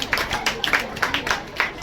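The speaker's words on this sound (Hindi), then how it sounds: "मैं चाहूँगा उसके लिए जोरदार तालियों से स्वागत करें।" Applause for students at a medal ceremony, a room full of people clapping in a dense, steady patter of overlapping claps at moderate loudness, with some voices underneath.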